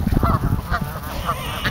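Wild ducks at a local lake honk and squawk loudly and close by in a busy, overlapping burst, with calls continuing throughout.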